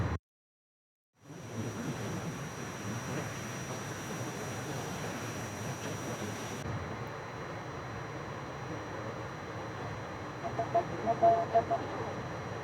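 F-84E Thunderjet jet engine roaring through its takeoff run in IL-2 Korea, a broad continuous rumble and hiss that starts abruptly after a short silence and holds steady, with a faint high whine; a voice talks over part of it.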